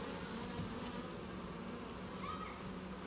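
Honey bees buzz around an open hive during an inspection, a faint steady droning hum with many overlapping wingbeats and no clear talking.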